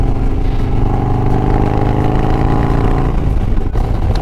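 Harley Lowrider S motorcycle with an S&S 475 cam and aftermarket exhaust, rumbling loudly and close with a steady throbbing idle-to-cruise note through the whole stretch, shifting slightly near the end.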